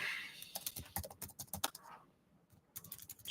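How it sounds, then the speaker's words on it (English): Quick typing on a computer keyboard, a rapid run of sharp key clicks that pauses briefly and then resumes, close and clear with no talking. "Love quick typing."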